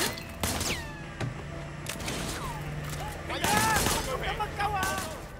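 Gunshots fired from a car's passenger window in Sleeping Dogs: Definitive Edition, heard as a string of sharp reports scattered across the scene and mixed with game engine noise, whooshing effects and a voice speaking.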